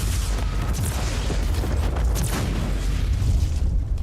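Rapid chain of heavy booms and bursts from the Warhammer 40K: Inquisitor - Martyr action game, dense and loud throughout, with rumbling low-end blasts piling over one another and no talking.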